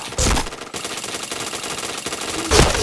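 Bursts of gunfire ring out in the shooter game Point Blank, with rapid automatic fire at the start and again near the end over a continuous din of game sound.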